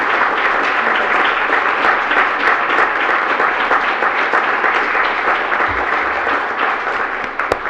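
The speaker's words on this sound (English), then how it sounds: "Let's have a round of applause." A crowd at a city's State of the City address claps for emergency management officials, sustained, even applause from many hands heard loud and close throughout, tapering a little near the end.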